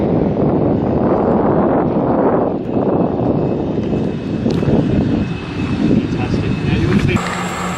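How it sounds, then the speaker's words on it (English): Cabin of a very small propeller plane in flight: a loud, steady engine and propeller roar with rushing wind noise that fills the whole span, with people talking faintly beneath it. "Look at us, we're on a plane."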